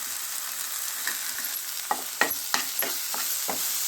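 Coriander, sambar powder and masala powder get stirred in a hot pan for a vegetable gojju, with a soft sizzle under a run of scraping spoon strokes that grow more frequent and pronounced.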